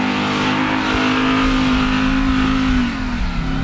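Ram TRX pickup with a 6.2-liter supercharged V8, revving loud and close in a steady sustained roar whose pitch holds and then dips near the end, with no voices over it.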